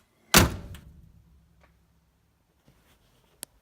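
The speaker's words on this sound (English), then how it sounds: "Kind of a unique door latch there, but it does seem to operate really smoothly." A Buick car door with an unusual latch swings shut with one loud solid thunk that rings down, followed by a couple of faint small clicks from the latch, close by with no talking.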